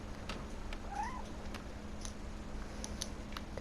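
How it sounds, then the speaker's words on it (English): Cat meowing in the video game What Remains of Edith Finch: a single short, faint meow from a distance, heard over a low steady hum and scattered light ticks. "I know I heard a cat."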